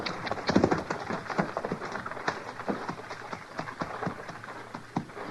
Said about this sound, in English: let's get these horses off the trail